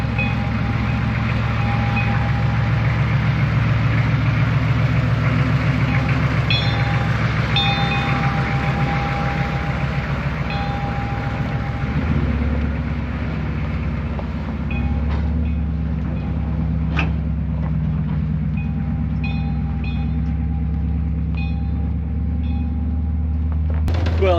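A 4x4 off-road train rumbles steadily along at night with a deep engine drone and rattling cars, loud and close, the tone shifting midway as it keeps rolling.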